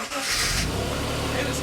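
An Aston Martin DB7 engine cranks and catches, a steady mid-pitched engine note running close by after start-up, with a voice speaking over it.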